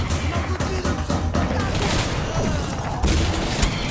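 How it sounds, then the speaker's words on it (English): RLS-7 military-issue launcher firing high-explosive rockets in Singularity, a dense barrage of rapid blasts and booming explosions rolling continuously, with a brief spoken exclamation over the din. "RLS-7, military issue launcher that fires high explosive rockets"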